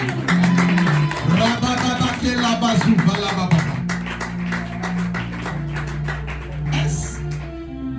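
A church congregation claps and applauds in a dense, continuous patter that fills the room, mixed with voices and music, gradually thinning out toward the end.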